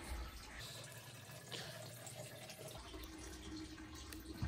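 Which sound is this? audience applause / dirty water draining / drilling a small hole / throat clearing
dirty water draining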